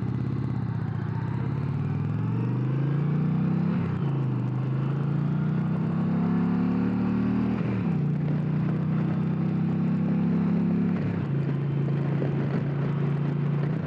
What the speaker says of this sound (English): This engine is so easy to get along with.